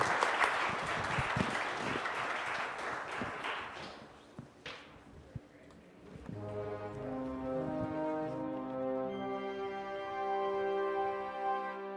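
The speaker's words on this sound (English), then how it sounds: "Let's give a round of applause to our panelists." An audience applauds panelists at a conference, loud clapping for several seconds that fades out and then gives way to rising tonal music.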